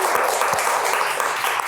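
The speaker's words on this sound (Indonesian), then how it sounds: "Ini tim risetnya boleh tepuk tangan dulu dong." Brief applause for a research team, a dense wash of many hands clapping continuously at moderate loudness, with a faint murmur of voices under it.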